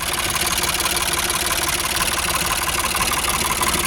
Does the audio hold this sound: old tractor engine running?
yes